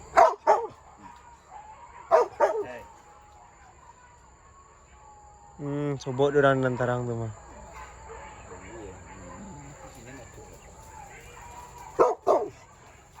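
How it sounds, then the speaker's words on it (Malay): A dog barks in short sharp bursts, a few spaced barks near the mic, while people talk in between. "Anjing bang."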